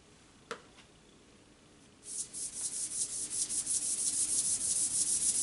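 A rubber eraser scrubs drawing paper in a steady run of rapid, close back-and-forth rubbing strokes that grows louder, with one faint tap near the start and no talking.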